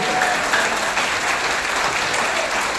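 An audience at a motivational talk breaks into steady, even applause, a broad wash of many clapping hands lasting throughout, with no voices on top.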